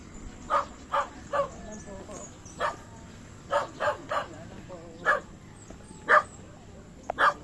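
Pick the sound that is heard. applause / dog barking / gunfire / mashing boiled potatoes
dog barking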